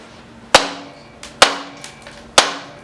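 A stuck part on a 1977 Honda CT90 Trail motorcycle is struck three times with a whacking stick, each a sharp, loud, close crack about a second apart with short ringing decays.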